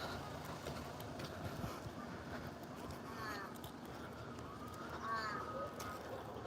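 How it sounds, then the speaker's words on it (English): A crow caws a few times somewhere in the distance, faint and brief against a steady outdoor background hum. "There's a crow somewhere here."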